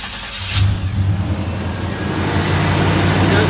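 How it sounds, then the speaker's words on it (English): 1989 Chevy K1500 truck engine restarting: a short crank catches about half a second in, then settles into a loud, steady idling rumble that carries on to the end. "turn the truck off and restart it"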